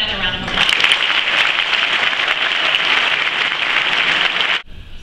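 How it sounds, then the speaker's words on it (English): Audience applause at a graduation ceremony for a military band after the American and German national anthems: dense, steady clapping fills the room for about four seconds, then cuts off sharply. "Let's give her another round of applause."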